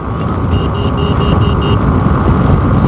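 A Bajaj Pulsar NS160 motorbike rides fast on a highway in strong wind, recorded on a GoPro Hero 9, with a loud, continuous roar of wind buffeting and engine drone filling the whole clip.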